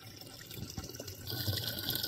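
Spring water from a forest hillside seep pouring into a jerrycan, a steady close splashing fill that grows slightly louder and fuller over a couple of seconds, with no talking.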